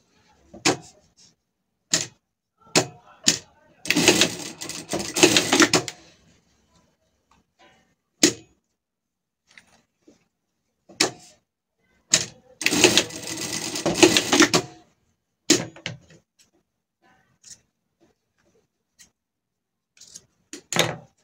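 Sewing machine stitching a finishing seam on surgical clothing, running in two long bursts of rapid stitching separated by scattered sharp clicks and brief short runs, close and clear with no talking.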